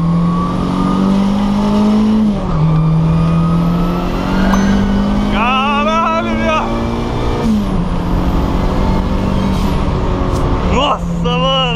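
Turbocharged VW Gol accelerating hard from inside the cabin, a loud steady engine drone rising through the gears with brief dips at shifts and turbo whooshes, under excited talk from the occupants.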